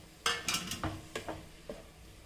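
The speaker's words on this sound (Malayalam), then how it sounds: "തക്കാളി ചേർത്ത് കൊടുക്കുക." Chopped tomatoes go into a pan of masala for a meatless roast and get stirred, with a series of sharp metallic scrapes and clinks of a spoon against the pan, about seven distinct strokes, close and clear.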